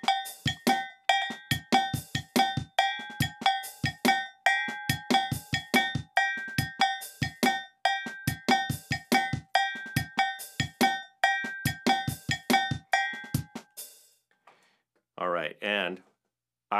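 A steady cowbell pattern rings out over a programmed beat, with regular bright strikes in an even rhythm for about fourteen seconds before it stops, followed by brief talking.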